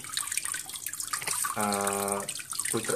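A pump in a homemade aeroponic hydroponic system sprays water inside a closed container lid holding net pots, making a steady hissing splash with a brief hum partway through, close by.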